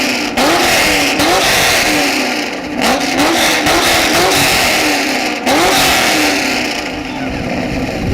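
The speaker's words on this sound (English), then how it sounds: "let me hear what you got here in that Camaro" A Chevrolet Camaro with a loud aftermarket exhaust at an exhaust loudness competition revs repeatedly, each blip rising and falling in pitch in close, loud bursts, with a faint voice in the background.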